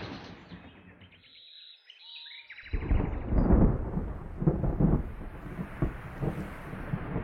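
Thunder with lightning in a cartoon: light bird chirps and a soft tone give way to a sudden loud, deep rolling rumble that crackles and fades unevenly over several seconds.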